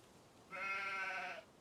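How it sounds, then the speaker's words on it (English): A young sheep on a virtual farm in a video game gives a single drawn-out, wavering bleat lasting almost a second, clear and fairly close against a quiet background. "you gotta love them young sheep"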